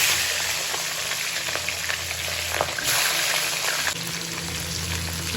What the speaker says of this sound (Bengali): মাছের তেল গরম হয়ে গেছে, এবার আমি মাছের মাথাগুলো এক এক করে ভেজে দেবো।